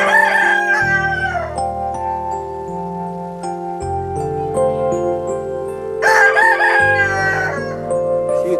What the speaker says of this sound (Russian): Поет петух.